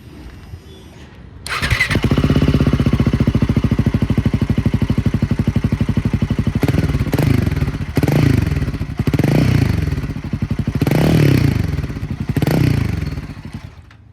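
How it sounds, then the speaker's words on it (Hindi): A Royal Enfield Himalayan 450 with a de-cat exhaust pipe fires up and idles with a loud, rapid thumping beat, then gets blipped in several sharp revs, close and alone. "तो अब इसकी जो आवाज़ है वो काफ़ी ज़्यादा, मतलब क्लियर आती है एग्जॉस्ट की।"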